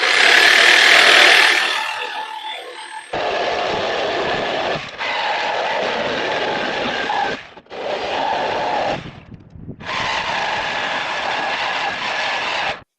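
A saw cuts through the factory stock front hoop bars on a vehicle, giving loud, steady rasping runs broken by several brief pauses and stops.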